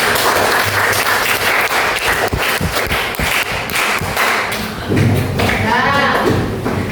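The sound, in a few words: classroom applause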